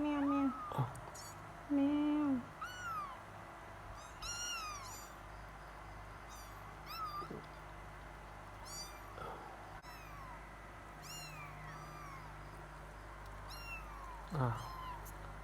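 Several high, thin meows from a 17-day-old orange kitten come in short bursts, some overlapping, close by, with soft background noise between them.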